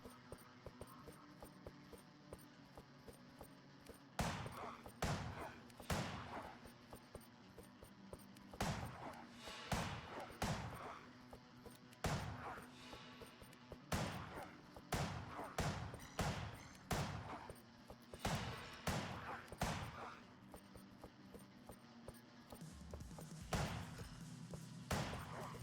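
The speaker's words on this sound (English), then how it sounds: "We'll start off with our pistol" Pistol shots in the video game Ritual: Crown of Horns, sharp repeated reports fired in quick doubles and bursts over a steady low game drone, close and loud throughout.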